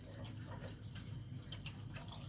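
Aquarium sump water overflowing through a weir chamber and into filter socks makes a faint, steady trickling and dripping, low and continuous throughout.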